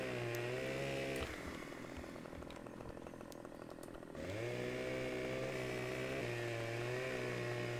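A chainsaw cutting wood in the Farming Simulator 15 video game, with a loud, steady engine whine that dips in pitch as it bites into the log and then rises again.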